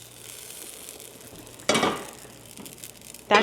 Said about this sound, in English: quickly take the lid off, put the bread in, put the lid back on, slide it back into the oven